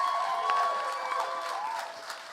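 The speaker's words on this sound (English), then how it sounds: "Can we just give a round of applause for Chris, please?" Audience at a live arts event in London applauding, a moderate burst of clapping with a little cheering that slowly fades.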